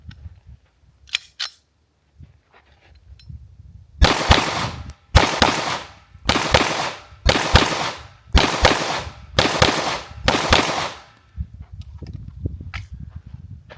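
Seven sharp pistol shots from an open gun fitted with no ports or compensator, fired in a slow, evenly spaced string, each loud crack followed by a short ring, with quieter handling noises before and after.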